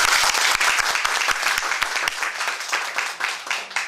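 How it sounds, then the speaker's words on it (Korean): An audience breaks into loud, sustained applause to welcome a speaker at a Korean public forum, dense clapping filling the room evenly for several seconds before starting to thin out. "박수로 맞이해 주시기 바랍니다"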